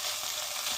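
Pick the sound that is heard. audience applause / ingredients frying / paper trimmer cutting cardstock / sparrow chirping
ingredients frying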